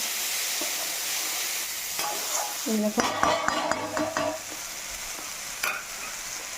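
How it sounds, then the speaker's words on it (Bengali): Bitter gourd and potato pieces sizzle steadily in a frying pan, with a spatula scraping and stirring through the middle stretch and a brief voice heard once. "বন্ধুরা উচ্ছে আলু ভাজছি"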